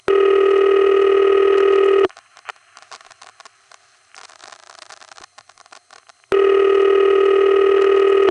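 A New York City telephone ring tone from the Endicott 2 and Trafalgar 4 exchange on West 73rd Street, a loud steady buzzing tone heard in two long bursts separated by a quiet gap with faint line clicks.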